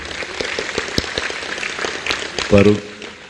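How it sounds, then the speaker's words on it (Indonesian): Gathered students clap at a talk by a speaker, a moderate, uneven patter of hands with a voice cutting in briefly near the end. "Ya, tepuk tangan semuanya teman-teman sekalian."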